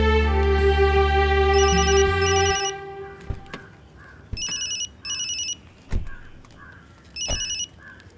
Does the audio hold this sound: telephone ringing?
yes